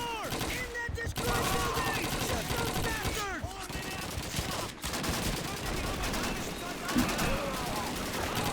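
Dense gunfire in a Call of Duty 2 World War II battle, with MG42 machine gun bursts mixed among rifle shots, sustained and loud, layered with shouting voices throughout.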